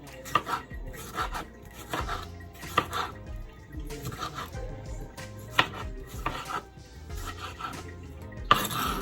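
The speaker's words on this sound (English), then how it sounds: "I'm going to go ahead and cut up my veggie. So I have my tomato." A knife chops a tomato on a cutting board during Jamaican curry goat preparation, with steady repeated thuds close by, quiet and rhythmic, and no voices.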